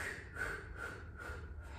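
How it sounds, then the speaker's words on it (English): Repeated sharp sniffing inhales during a Pilates deep-breathing exercise, several quick nasal breaths in steady rhythm, close and fairly quiet with no talking. "So you're creating this nice sniff breath. So you sniff it in 5 times and then you push it out."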